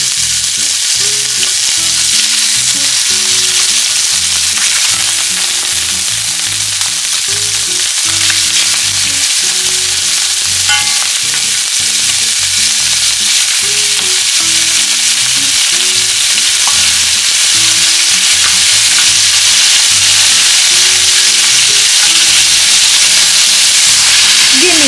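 Pork riblets fry in olive oil in a pan, giving a loud, steady sizzle with crackling pops that runs unbroken for the whole stretch, with no talking.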